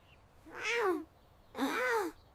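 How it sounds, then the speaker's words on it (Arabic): A cat gives two distinct meows, close and clear, each rising then falling, separated by a short quiet gap. "هنعمل ايه مع القطة دي؟"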